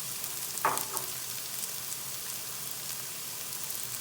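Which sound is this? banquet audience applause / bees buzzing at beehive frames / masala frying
masala frying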